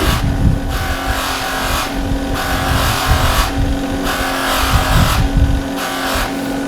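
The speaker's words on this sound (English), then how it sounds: "Bill, we can't hear you with the buffer going." A buffing wheel spins against a wooden bowl during a CA finish, a loud, rough whirring roar that swells and dips in pulses as the bowl is pressed to the wheel, close and alone.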